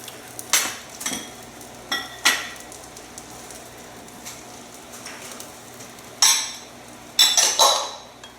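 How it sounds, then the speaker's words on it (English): A utensil scrapes and knocks against a pan while chicken and vegetables are mixed together, producing scattered clinks and scraping strokes at close range over a faint sizzle, with no talking. "what I want to do is add all my vegetables in this and then mix it"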